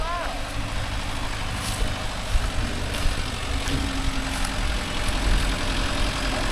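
A Mahindra Yuvo Tech Plus 585 DI 4WD tractor engine runs with a steady low rumble and slight rises in pitch, with voices talking over it in an outdoor setting.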